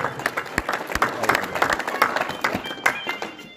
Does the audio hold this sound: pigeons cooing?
no